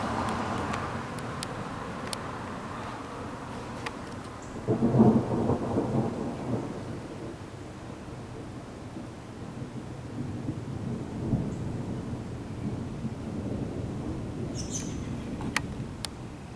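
Thunder rolls during a thunderstorm with rain, a low rumble that swells for a few seconds and then fades into distant grumbling under steady rainfall.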